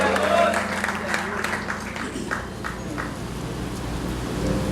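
Church congregation applauding at a Spanish-language worship service, a moderate wash of claps mixed with voices and a low steady hum throughout.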